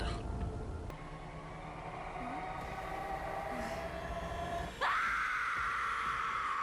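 A scream from a scene in a teen drama series rings out, a strained high wail that rises over a rumbling, train-like background and ends in a sharp upward cry.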